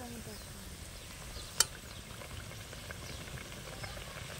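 Jonna burelu, sorghum fritters, frying in hot oil: a steady soft sizzle and bubbling throughout, fairly quiet, with one sharp brief click partway through.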